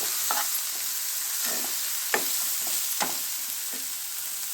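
A spoon stirs masala powder into vegetable gravy frying in a pan, with a steady sizzle throughout and several distinct scraping strokes at an uneven rhythm, close and moderately loud.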